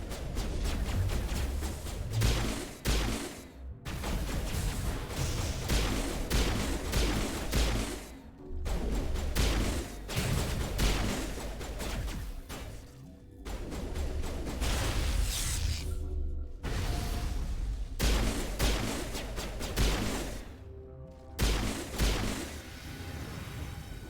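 Bursts of incendiary-round gunfire from Mass Effect Legendary Edition rattle in rapid, sustained volleys, broken by brief pauses, with crashing impacts and whooshes mixed into the loud combat.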